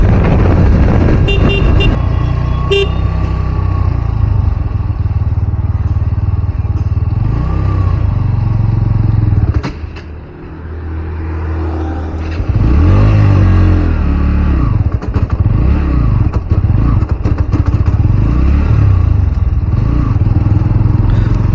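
A new-model Bajaj Pulsar NS 125 motorcycle being ridden, engine drone loud and close with gear changes and rising revs, a brief dip near the middle and a horn toot early on.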